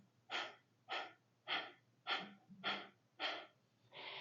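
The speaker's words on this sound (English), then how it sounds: "this breathing pattern is characterized by very quick bursts of exhales and a nice long inhale" Six or seven quick, forceful exhaled breaths through the nose in a steady rhythm during yoga breath-of-fire practice, close and clear against a faint low hum, with no talking.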